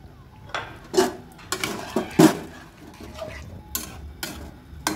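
A spoon stirring cauliflower and potato curry in a pot, a series of irregular metallic clinks and scrapes against the pan, close and fairly loud, with no speech.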